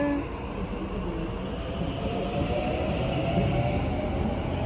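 A train departs from a station in Sydney, rumbling and rolling along the tracks nearby, a steady low roar with faint metallic squeals as it moves away.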